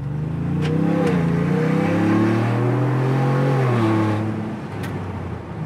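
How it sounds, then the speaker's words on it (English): A Ford Bronco with an upgraded exhaust rumbles while driving, a low, steady engine drone that swells and eases with the throttle, heard from inside the cabin with no talking. "It's got a little rumble. You can hear the rumble, which sounds nice."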